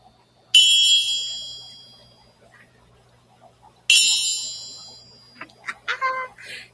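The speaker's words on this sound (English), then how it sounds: "Now we can gong people." A gong is struck twice in a home show-and-tell hangout. Each hit is a loud, bright metallic crash that rings out and slowly fades over about three seconds. Brief voices and clatter follow at the end.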